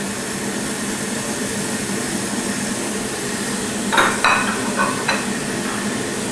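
Scallops brushed with garlic butter sizzling on a hot grill, a constant loud hiss with a few sharp scraping taps near the end, no talking.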